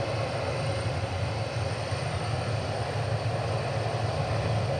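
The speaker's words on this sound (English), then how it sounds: "This 767's headed to Oakland," A Boeing 767 jet departs DFW Airport, heard as a continuous low engine rumble and roar at moderate distance, steady and unbroken for the few seconds.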